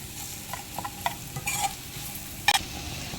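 Onions frying in oil in a pan for a Telangana-style taro root (chamagadda) pulusu, a steady sizzle with stirring scrapes and a sharper clatter near the end, fairly close and without talk.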